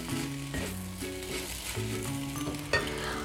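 Savory vermicelli upma being stirred in a pan after coriander goes in, a steady low sizzle under a faint tonal hum, with soft spoon scrapes and one sharper clink near the end.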